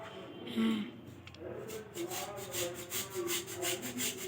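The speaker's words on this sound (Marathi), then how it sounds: "असं तुम्हाला गुळ हा किसून घ्यायचा आहे." Block of jaggery being grated by hand for sesame ladoo, a soft repeated rasping scrape in quick rhythmic strokes, fairly faint and close.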